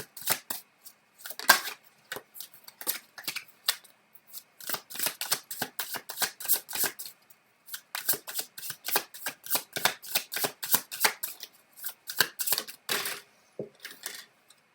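Tarot cards being shuffled close up, a long run of quick papery riffles and flicks in bursts with brief pauses, no talking over them.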